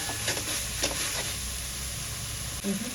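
Tomatoes fry for paneer fried rice in a pan on a high gas flame, with a steady close sizzle and occasional stirring scrapes throughout.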